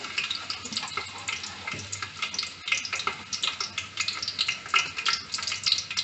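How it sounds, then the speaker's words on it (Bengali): Chopped onion dropped into hot oil in a pot fries with a steady, close crackling sizzle that runs throughout with small pops and no talking. "এখন এর মধ্যে একটু পেঁয়াজ দিয়ে দিলাম।"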